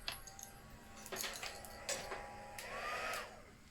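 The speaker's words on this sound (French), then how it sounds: "le pistolet chauffant qui se met en route tout seul" A heat gun switches on by itself and runs, giving a steady blowing whir that rises near the end, mixed with faint clinks from a workbench, close by and alone.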